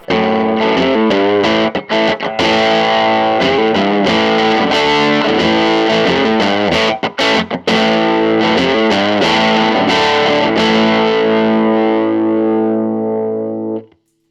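Electric guitar through a small 5-watt amp, loud overdriven chords and single-note runs close up, ending on a sustained chord that rings out and fades.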